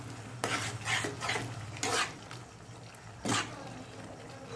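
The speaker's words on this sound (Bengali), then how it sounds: "একটা বাটিতে আমি কর্নফ্লাওয়ার গুলে রেখেছিলাম জলের সাথে, দিয়ে দিচ্ছি, ভালো করে মিশিয়ে নিচ্ছি।" A spoon stirs cornflour mixed with water into spices in a pan for a Bengali-style cauliflower manchurian gravy, giving three or four distinct scraping strokes over a soft steady sizzle, close up with no talk.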